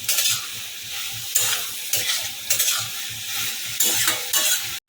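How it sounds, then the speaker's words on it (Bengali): Spiced masala for a banana flower ghonto with prawns stirs and fries in a pan, a steady sizzle broken by repeated scraping strokes of the spoon, close and fairly loud with no talking. "আমাদের মশলা প্রায় হয়ে এসেছে আর একটু শুকনো শুকনো করবো এখনও জল রয়েছে টানাবো একটু ভালো করে নেড়ে ছেড়ে শুকনো করবো"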